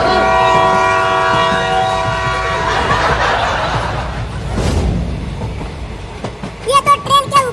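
A cartoon train rumbles past loudly with a blaring horn and rail clatter, then fades into a burst of bright cartoon sound effects at the end.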